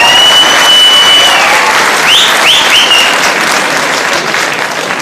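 Audience applause fills a talk hall at a success-journey seminar, a dense, steady wash of many hands clapping loudly throughout, with a few faint whistles or squeaks rising briefly in the middle.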